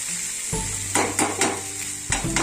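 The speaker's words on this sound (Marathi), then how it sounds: "चांगली तेलात अशी भाजली मऊ होते" Sabudana (sago) khichdi fries in oil, a close crackling sizzle broken by several quick stirring scrapes and clinks of the spoon against the pan, with a low hum underneath.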